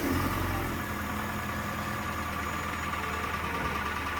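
A Hyundai Sonata YF gasoline engine in poor condition idles with a steady, dense mechanical rattle and hum, close and continuous without any letup.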